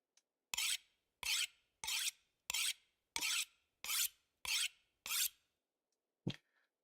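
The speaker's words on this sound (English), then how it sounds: "We'll just use up the whetstone" A whetstone rasps in sharp, evenly spaced strokes in The Long Dark: eight crisp scrapes in steady rhythm, a short pause, then one last stroke, close and clear against silence.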